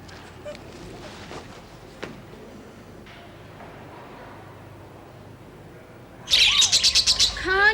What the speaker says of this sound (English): Can't you shut those bloody parrots up? They are budgerigars.